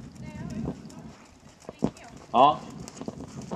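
A horse moves under its rider during a reining lesson, hooves clip-clopping in an irregular rhythm close by while an instructor talks over it and a brief snort cuts through.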